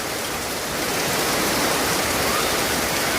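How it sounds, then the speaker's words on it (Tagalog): Heavy typhoon rain pours down in a continuous loud hiss, a dense roaring wash with no pauses and no voices. "Hindi na tumitigil ang ulan."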